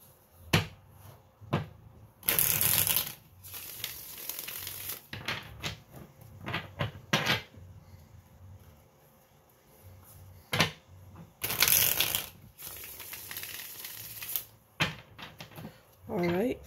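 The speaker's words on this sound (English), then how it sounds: "Alright, let's get two shuffles." Tarot cards being shuffled in quick riffling bursts, two longer riffles among shorter taps and shuffles, with a voice speaking in between.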